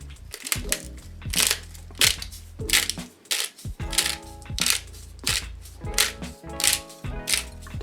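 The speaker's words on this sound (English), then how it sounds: "Another ceramic grinder." A ceramic pepper grinder cranked by hand crushes black peppercorns in a series of sharp, crunchy cracks and clicks, coming in uneven bursts close to the listener.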